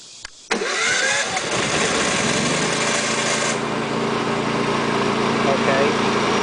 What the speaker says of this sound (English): go ahead and start the generator